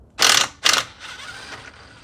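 A ratchet socket wrench turns a bolt on a Husqvarna 7021p lawn mower, giving two short, loud buzzing ratchet strokes close by, followed by quieter faint rattling.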